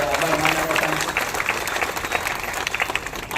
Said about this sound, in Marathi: आपल्या सगळ्यांना एकदा टाळ्या वाजून